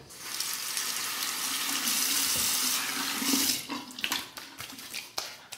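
Tap water runs steadily into a sink for a quick rinse during a shave with a Merkur 47C safety razor, close and fairly loud, ending in a few splashes and hand sounds.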